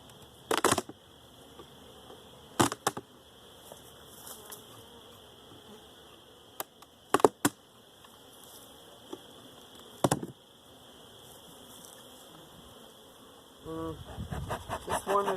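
Honey bees buzz around an opened hive in spring during a colony check, a faint continuous drone under occasional sharp clicks and knocks of hive handling, with busier rustling toward the end.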